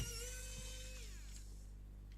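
A battery-powered screwdriver works on a screw in a gamepad during a repair, its motor whining at a steady pitch that then drops and winds down, close up over a constant low hum.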